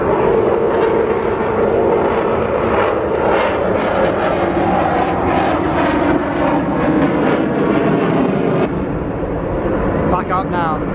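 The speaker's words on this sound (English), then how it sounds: "kicking the burners back in now, the jet will accelerate away" A jet on an air show display relights its afterburners and accelerates away, a loud, continuous broadband roar that holds steady for about eleven seconds before easing slightly near the end.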